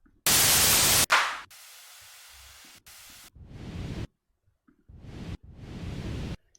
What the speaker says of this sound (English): So let's put a white noise riser.